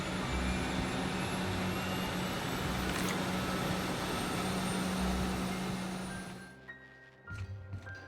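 A spaceship engine in The Outer Worlds roars to life with a steady, loud jet-like rumble and whine that holds for about six seconds, then cuts off, leaving faint mechanical clanks.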